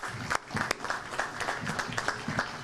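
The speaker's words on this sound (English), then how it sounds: "please give Shannon Valentine a round of applause" A crowd at a governor's rail announcement applauds, clapping unevenly with sharp individual claps over a murmur of voices, moderately loud and fairly close.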